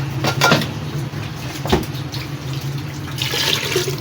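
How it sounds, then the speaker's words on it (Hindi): Two to three glasses of water are poured into a cooking pot with chicken and chopped onion to make stock, a splashing pour with a few clanks of the vessel nearby. "अब इसमें डाल देते हैं पानी, 2-3 गिलास पानी डाल के इसकी यखनी बना लेते हैं।"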